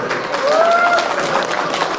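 Audience applause at a Kazakh stage performance, a steady clapping wash across the whole two seconds with a brief tonal voice or whistle rising through the middle.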